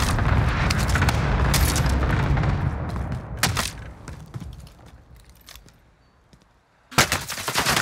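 Gunfire in a trios battle-royale match: loud bursts of rapid shots dominate the opening seconds, then fade to scattered distant pops and a lull before another sharp, heavy burst near the end.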